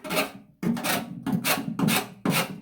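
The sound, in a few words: scraping paint off a motorcycle fuel tank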